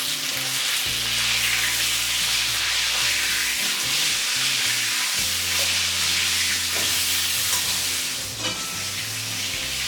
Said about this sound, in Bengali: তেলটা গরম করে পটলগুলো দিয়ে আমি ভেজে নেব।